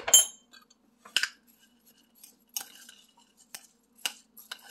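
A spoon works salt and pepper into rice for an oven-baked stuffed pigeon dish, giving a handful of sharp metallic clinks and scrapes against a pot, spaced apart with quiet gaps between.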